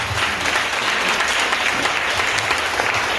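A church congregation applauds itself in a loud, steady burst of dense clapping that continues evenly for about three seconds, close and filling the hall.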